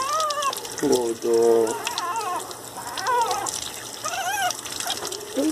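Water splashes and runs during a Pinscher puppy's first bath, a steady wet wash under high, wavering whimpers and cries from the puppy.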